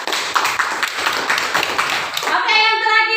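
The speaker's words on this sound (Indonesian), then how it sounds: "Tepuk tangan untuk kelompok 3." Students in a mathematics classroom clap for a group after its presentation, a dense burst of hand claps filling the room before fading out, with children's voices mixed in.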